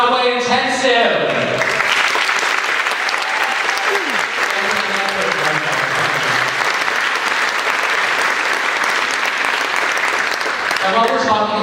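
Loud applause and cheering from a theatre audience for performers of a Broadway intensive program, dense clapping throughout with some voices and tones at the start and end.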